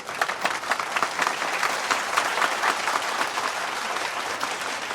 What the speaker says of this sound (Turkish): çok büyük alkışlarınızla